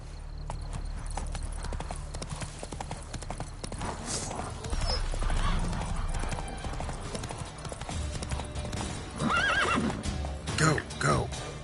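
A horse gallops in the video game The Witcher 3: Wild Hunt, with continuous clip-clop hoofbeats, a few loud neighs and whinnies near the end, and a voice speaking over the riding.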